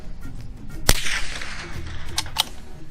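A suppressed .22 LR gunshot through a Q Erector modular silencer firing subsonic rounds gives one sharp crack, followed by a softer decaying tail and two brief mechanical clicks. It is fairly close and moderate in level, with no talking.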